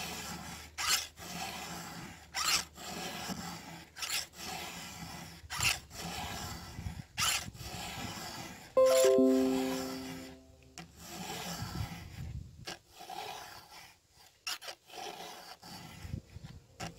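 Rhythmic file strokes sharpening a chainsaw chain with a flat file, about seven scraping passes at a steady pace, close and fairly loud, with a brief tonal ring partway through.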